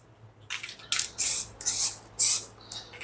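Short hissing bursts of varnish spray aimed at a resin and quartz piece: a faint first puff, then three loud, close, evenly spaced sprays, each about a third of a second long.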